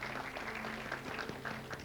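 Studio audience applauding a contestant on a Baku edition of the quiz show Who Wants to Be a Millionaire, with steady clapping throughout at moderate level and a faint background tone underneath.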